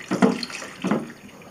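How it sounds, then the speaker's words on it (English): Water is poured into an Agfa Rondinax 35mm daylight loading film processing tank in two short splashing gushes, close by and fairly soft. "it's much easier just to pour the water into the whole film"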